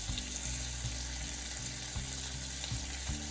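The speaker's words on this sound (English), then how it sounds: "Let it cook for about a minute on each side so that you have a nice and crispy bacon." Bacon frying in a pan until crispy, a steady close sizzle and crackle with faint bubbling pops throughout, no voices.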